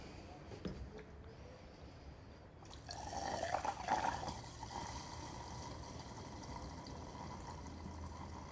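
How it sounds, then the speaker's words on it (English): Water filling a can, with a steady rushing and splashing stream that swells in the middle and continues, close and fairly quiet, with no talking. "So first, we're going to fill the can with water."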